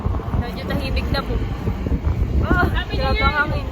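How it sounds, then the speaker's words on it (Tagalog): Strong wind roars as a steady, loud low rumble while people travel in the back of a vehicle, with voices talking over it. "Grabe ang hangin."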